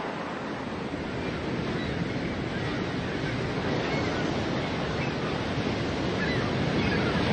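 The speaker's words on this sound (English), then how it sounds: "you gaze out over the deep ocean swells of the Great Southern Ocean towards Antarctica." Deep ocean swells of the Southern Ocean at the Klasies River mouth on Africa's southern tip, a loud continuous wash of surf and wind that builds slightly over several seconds with no talking.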